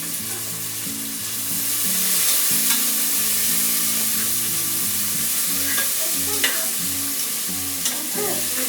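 Coriander, mint and fenugreek leaves fry in a pan for chicken biryani, a steady hissing sizzle with scattered scrapes and stirring clatter close up, no talking.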